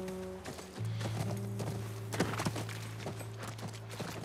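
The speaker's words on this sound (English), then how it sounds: "That's our horse." Horse hooves clip-clop at a steady walking pace near a ranch house in The Last of Us Part 1, alone over a low ambient hum.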